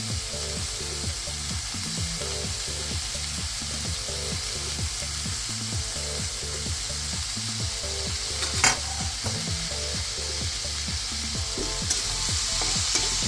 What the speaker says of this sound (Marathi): हे छान मिक्स करून घ्यायची भाजी। 1-2 मिनिटं खालीवर परतून घ्यायची।